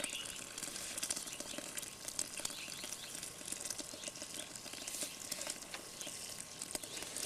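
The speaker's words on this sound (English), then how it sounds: "Go ahead and mix that up a little bit." Malt being stirred into water inside a Brewtree mash tun gives a steady wet, sloshing swish that carries on without pause, faint and close, with no voices.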